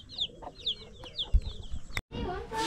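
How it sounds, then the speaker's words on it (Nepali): Chickens and chicks cluck and chirp softly on a hillside amid faint rustling outdoor noise, with a brief louder knock near the end. "यति धेरै फलिरहेको छ यहाँ हाम्रो चल्लाहरू पनि रहेछ"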